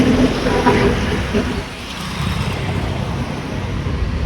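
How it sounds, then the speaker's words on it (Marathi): Road traffic at a busy junction, heard from inside a car as a continuous close rumble, a little louder at first before settling into a steady drone. "आम्हाला ट्रॅफिक लागले इथं कोकणी चौकामध्ये"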